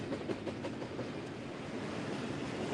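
A long freight train rolls past near Crofton, Kentucky, a steady continuous rumble of wagons with faint clickety-clack of wheels over rail joints, fairly loud and close, with no talking.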